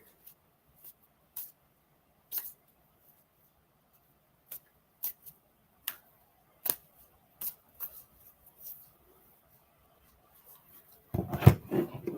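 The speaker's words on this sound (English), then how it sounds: "Let me get the card shuffled up for you." Tarot cards being shuffled give a scattered series of soft, brief papery clicks and taps with quiet gaps between them, then end in a denser, louder flurry of shuffling.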